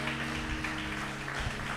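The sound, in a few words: congregation applauding the Lord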